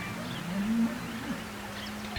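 Cattle moo near a riverside campsite, a low, drawn-out lowing call heard at a middle distance over quiet outdoor background.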